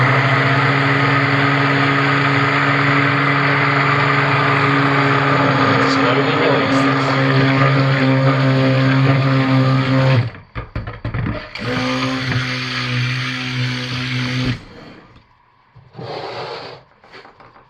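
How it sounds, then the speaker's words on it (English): A steady motorized whir of a stick blender mixing cold-process soap batter runs loud and continuous, then cuts out and restarts in short bursts, with a voice speaking briefly. "trap all of that under the stick blender head and turn it on to really create a vortex"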